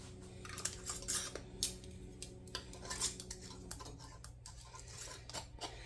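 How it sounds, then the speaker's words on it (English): Light metallic clicks and taps as canning jar lids and screw rings go onto filled jars of homemade tomato pasta sauce, several scattered clinks over a steady low hum. "Now I'm just going to add a canning jar lid to each of them and add the ring."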